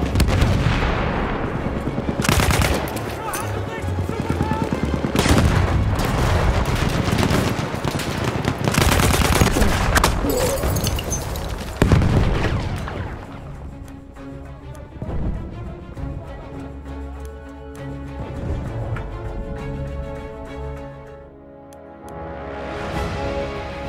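An enemy artillery barrage in Battlefield 1, with heavy overlapping blasts and gunfire pounding continuously for the first half, then easing into scattered distant booms over a sustained musical game backdrop.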